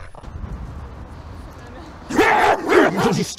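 An agitated dog barks at people in a quick cluster of three or four loud, close barks after a quieter stretch of low background noise.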